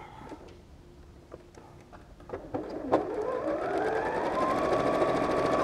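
A sewing machine stitches a quilt block seam, starting with a few taps and clicks of fabric handling, then running into a steady, rising mechanical whir that continues close and loud to the end.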